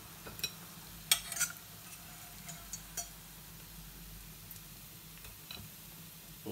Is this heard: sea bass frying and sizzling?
yes